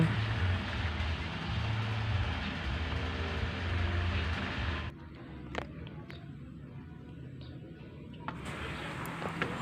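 Honda Beat 2014 fuel-injected scooter engine idling steadily nearby, a low continuous hum that drops to a quieter level partway through, with a few faint clicks and no talk.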